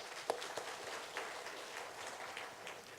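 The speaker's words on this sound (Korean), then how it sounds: "박수하겠습니다" A church congregation claps during a Sunday morning worship service, a faint, steady patter of many hands that sounds distant and soft throughout.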